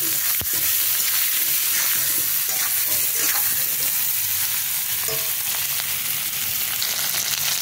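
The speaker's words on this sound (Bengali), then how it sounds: "এই আলু পেঁয়াজগুলোর মধ্যে একটু নুন আর একটু হলুদ দিয়ে ভালো করে একটু ভেজে নেবো।" Potatoes and onions fry in a kadai with salt and turmeric, giving a steady close sizzle and crackle that holds for the whole stretch, with a few light stirring scrapes and no voices.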